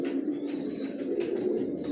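Several pigeons coo together in a newly bedded loft, overlapping low rolling calls near at hand, with faint chirps and a brief flutter of wings.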